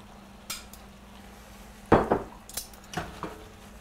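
Pasta with beef and spinach is tossed in a pan, giving a few sharp metallic clanks and scrapes, the loudest near the middle, with quieter clinks before and after.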